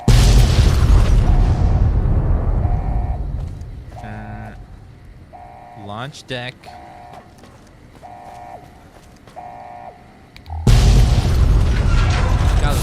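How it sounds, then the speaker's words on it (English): Heavy explosions boom in Fallout New Vegas on modded PC, loud dense blasts at the start and again near the end, with quieter mechanical beeps and tones in between. "God, those explosions are crazy."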